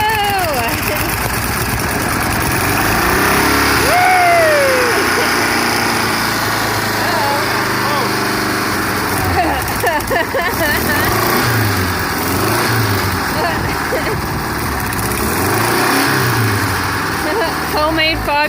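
An old engine that had sat unused since 1993 runs on its first start in over 27 years, a loud, steady high-pitched mechanical drone with revving swells and uneven pulses, while people talk and cheer over it.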